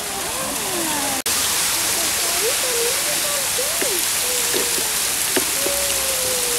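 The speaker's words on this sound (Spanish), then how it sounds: "Y acá tenés un circuito de cascadas artificiales." Artificial waterfall cascades on Cerro San Bernardo in Salta give a steady hiss of falling water throughout, with birds chirping and whistling over it and faint background voices.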